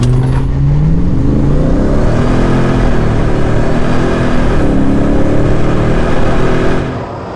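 A Hennessey Raptor 700 and a Ford F-250 pickup rev and accelerate together at close range, a loud sustained engine roar with rising and falling pitch that holds steady and then fades near the end, with no voices.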